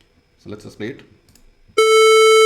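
A hard-clipped sine wave from Python guitar distortion code, clipped at top and bottom into a near-square wave, sounds as a loud, steady buzzing tone rich in harmonics that starts abruptly after a short spoken line.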